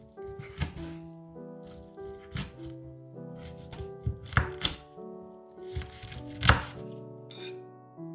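Knife chopping crispy fried Chinese-style pork belly on a board, a series of irregular crunchy thunks and cracks, close and fairly loud, with music playing underneath.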